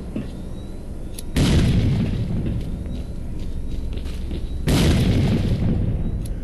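Two grenades explode in S.T.A.L.K.E.R.: Clear Sky, each a loud, close, heavy boom with a rumbling tail, spaced a few seconds apart.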